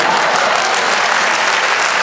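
An audience clapping in a hall, a loud, dense and unbroken burst of many hands heard alone without talk.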